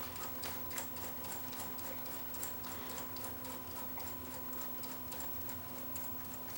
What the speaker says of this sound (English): the real drive motor will go into the reverse direction to wind the tape back in as it's unwinding